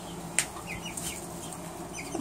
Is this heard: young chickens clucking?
yes